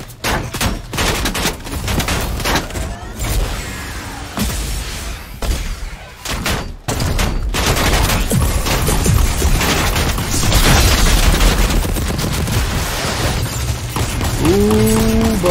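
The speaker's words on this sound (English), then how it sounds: "Hold on, I have large explosions, I can't hear you." Gunfire and large explosions from the video game Fortnite come in rapid volleys and heavy booms, loud and nearly continuous, with bursts of shots crowding together throughout.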